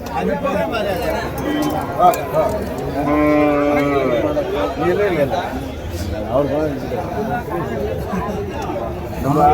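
Cattle at a livestock market in Uthangarai, Tamil Nadu, mooing loudly and repeatedly up close, with long drawn-out calls, over crowd chatter and someone talking nearby.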